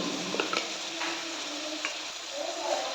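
Mutton head curry is stirred in a pan with salt, chili and turmeric, a soft continuous sizzle with a few light scrapes and clinks, fairly faint.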